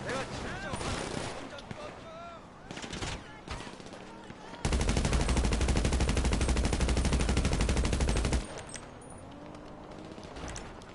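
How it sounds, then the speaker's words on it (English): Gunfire in GTA Online, with scattered shots and then a long sustained burst of rapid automatic fire in the middle, loud, while a player talks over the game sounds. "What are they shooting at?"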